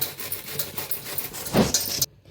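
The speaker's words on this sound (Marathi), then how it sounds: "सगळा पत्तागोबी असंच किसून घेते" Cabbage being grated by hand for cabbage manchurian, a close, rhythmic rasping of repeated strokes that grows louder and brighter near the end before stopping abruptly into silence.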